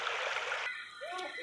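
Cold, clear water of the Jhelum river splashes in a brief, close burst of bright spray, followed by a faint trickle with a voice in the background.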